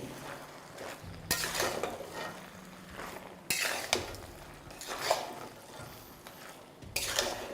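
Flour is stirred into fish-head chhechra in a pan, with a utensil scraping and clinking against the metal in repeated bursts of clattering strokes about every two seconds, close and fairly quiet.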